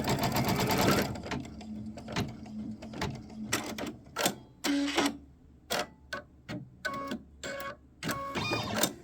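A sewing machine stitching a quilt block, its rapid mechanical whir running in short bursts that start and stop between pauses, loud and close with no talking over it.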